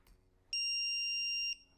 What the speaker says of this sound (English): You're going to hear one beep.